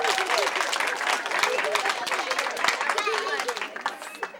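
Applause from an audience of parents and grandparents at a family gathering, a steady clatter of many hands clapping close by, mixed with cheers and chatter throughout.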